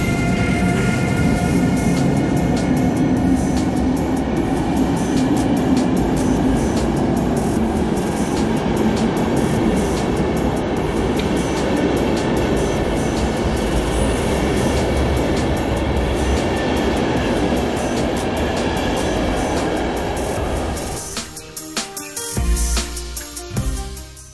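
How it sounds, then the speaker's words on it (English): A PKP EuroCity passenger train from Berlin to Warsaw rolls steadily by with a continuous rumble and wheel noise for a long stretch, then clatters over the rails as it pulls away. "I'll let you enjoy the train departing in full."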